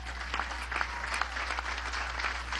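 Applause from a crowd at a public event in Venezuela, dense continuous clapping with a low steady hum underneath throughout.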